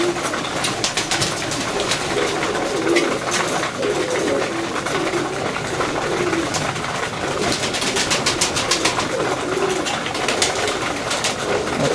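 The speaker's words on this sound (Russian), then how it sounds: "Вот так кушают у нас голуби." A flock of pigeons coos steadily while feeding on granulated feed, a continuous layered burbling close at hand with rustling and pecking underneath.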